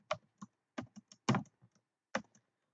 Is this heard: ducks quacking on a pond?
no